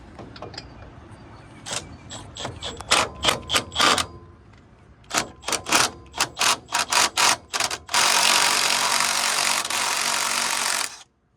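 A hand ratchet clicks in short bursts of rapid pawl ticks while working a rusted brake bolt on a 2003 Toyota Tundra, with sharp metallic strokes, pauses between bursts and a longer broadband rasping noise near the end.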